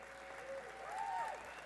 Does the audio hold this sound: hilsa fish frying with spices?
no